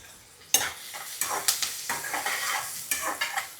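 Curry leaves and onion frying in oil in a pan for fish curry, a sudden burst of sizzle followed by repeated scraping stirs in an uneven rhythm, close and fairly loud.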